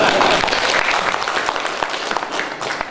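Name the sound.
audience applause for Pak Elim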